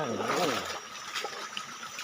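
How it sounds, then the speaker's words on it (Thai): A stream flows through forest on a high plateau, a steady close rush and trickle of water running under a voice speaking in the first moments, then continuing as a broad wash alone. "มีลำน้ำด้วย มีลำธารด้วย"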